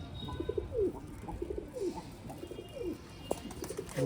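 Pigeons kept in a loft coo in soft, repeated rolling calls, several birds overlapping at close range against a quiet background, with no voices.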